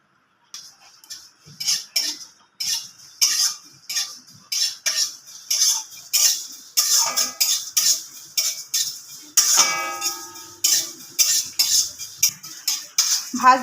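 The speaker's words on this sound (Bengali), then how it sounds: "বাকি গোটা মশলাগুলো ভেজে নেব" Whole spices dry-fried in a pan for chana dal, with a steady run of sharp scraping clinks from a spoon stirring them against the metal, close and fairly loud, no talking.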